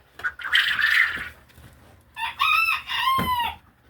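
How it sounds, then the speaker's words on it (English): A rooster crows indoors in a bird room, giving two loud, drawn-out calls with a pause between them. No voices are heard. "Usually Sass won't crow until my resident just went to bed too"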